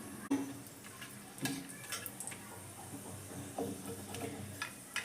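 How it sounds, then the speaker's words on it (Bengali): Crushed cardamom, cinnamon and a bay leaf frying lightly in hot oil in a vegetable stew pot: quiet sizzling with a few sharp ticks and pops scattered over a faint steady hiss. "ফোড়নটাকে হালকা করে আমি ভেজে নেব"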